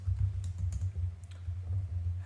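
Soft, rapid keystrokes on a computer keyboard while someone types JavaScript code, several quick clicks in short irregular bursts over a steady low hum.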